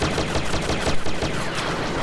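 Blaster gunfire in the video game Star Wars Battlefront 3, a dense, continuous rattle of rapid shots packed tightly together for a couple of seconds with no pauses.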